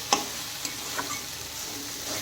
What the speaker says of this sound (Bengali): দেখেন চিচিঙ্গা আমার ভালো করে ভাজা হয়ে গেছে।